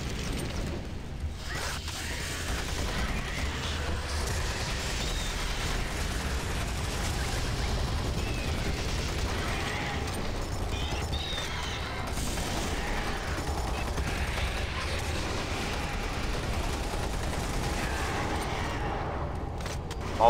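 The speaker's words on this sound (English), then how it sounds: "Shooting demons as they come" Rapid gunfire blasting at demons in Doom 3, a dense, continuous barrage of shots with mechanical clatter running the full length, loud and close with no talk over it.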